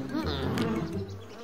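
Cartoon swarm of bees buzzing in a close, busy drone with fluttering wavering tones, short and fairly quiet, with no talking over it.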